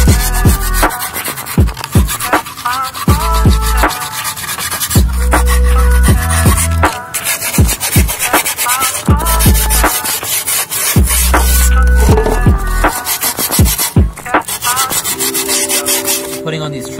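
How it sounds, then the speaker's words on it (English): Grip tape edges on a skateboard deck are sanded in steady back-and-forth rubbing strokes, a loud, close, gritty scraping that keeps going with brief pauses, with no talking. "Right now the edges are too sharp, so you're gonna be sanding it like that."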